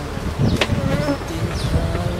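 Honey bees swarm around a full hive colony, a dense continuous buzz close up with individual bees droning past.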